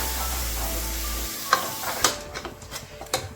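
Chicken biryani masala with yogurt mixed in a pan: soft sizzling and a rumble at first, then a few clattering spoon strokes and light scrapes near the pan, irregular and moderately loud.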